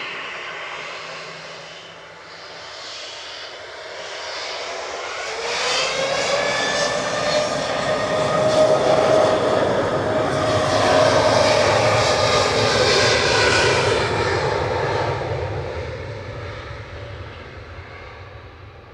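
A TUI Boeing 787-8 heavy jet takes off from Manchester Airport, starting as a distant hum and building into a loud, sustained, whining roar that peaks and holds before slowly fading into the distance.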